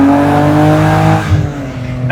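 Roadster car engine revving loudly close by during a downshift, a sustained engine tone that dips as the gear changes, then drops lower with rough rumble before picking back up.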